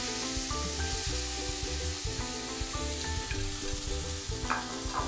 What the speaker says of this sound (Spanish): Agregamos un poquito de aceite y ya vamos las proteínas a sellar.